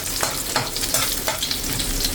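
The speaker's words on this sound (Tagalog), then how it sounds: "So, igisa lang naman natin ito eh." Chicken pastil ingredients sautéing in hot oil give off a steady, close sizzle, broken by regular stirring scrapes and clatter every half second or so, with no talking.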